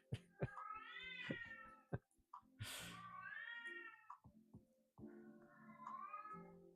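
A cat gives three drawn-out, wavering meows close by with short pauses between them, against a quiet background.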